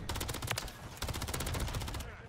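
Rival 9 gun in Call of Duty MW3 firing in rapid automatic bursts, dense close gunshots with a short break near one second, then continuing.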